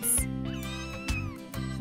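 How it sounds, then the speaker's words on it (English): Newborn cartoon kittens mew in a high, thin cry that rises and wavers, set over a steady tonal music bed with short bright accents, close and clear with no talking. "Three beautiful kittens."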